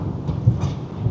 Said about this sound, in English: big lightning strike right there